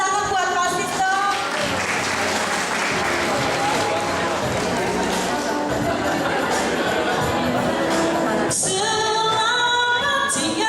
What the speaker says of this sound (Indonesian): Tepuk tangan buat Masih dong.